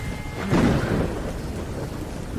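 A thunderstorm in a factory-set adventure game, a deep rumble of thunder rising early over continuous falling rain, with no voices.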